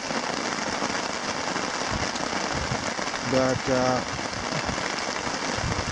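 Heavy rain drumming steadily on a campsite during a wet August layover at Red Rock Lake in the Boundary Waters wilderness, a dense continuous wash of hiss throughout, with a brief spoken word near the end.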